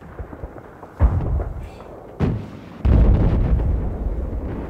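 A grenade explodes in the Battlefield 4 video game, one of several heavy booms: a sharp blast, another burst, then a loud sustained roar of explosions and battlefield rumble, close and forceful with no talking.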